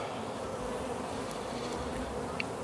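Honey bees buzz steadily at a hive on a porch, a dense close-up drone that holds without a break for the whole stretch, with no voices.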